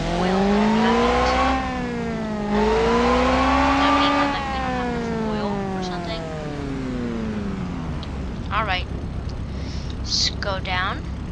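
A smoking, oil-starved airplane engine in a video game drones steadily with rising and falling pitch, then fades into quieter noise with a few short chirps near the end while a voice talks over it.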